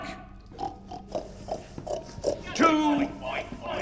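A person imitates a pig with a run of short nasal grunts and oinks, rising into a louder squealing snort near the end, amid other voices chattering close by.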